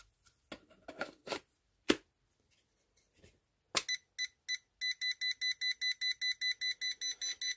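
An indoor laser level, set down crooked, beeps in a fast regular train of short high electronic tones, preceded by a few handling knocks and clicks.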